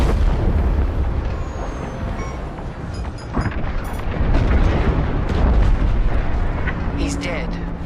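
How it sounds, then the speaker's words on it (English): A frigate explodes in the Star Wars Squadrons space-combat game, a sustained deep rumbling roar with heavy low booms swelling toward the end, loud and continuous, with a voice line mixed in. "The frigate is about to explode."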